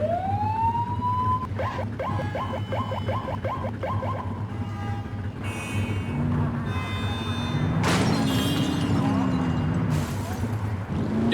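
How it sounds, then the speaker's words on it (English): A police car siren in The Precinct video game wails with a rising tone into rapid repeated yelps, then shifts pitch and sweeps, loud over engine rumble and traffic noise. "Turn that siren off."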